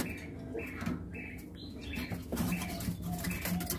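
A caged black-naped oriole gives short chirps and calls, with some rustling and fluttering nearby, moderately loud and close, with no talk.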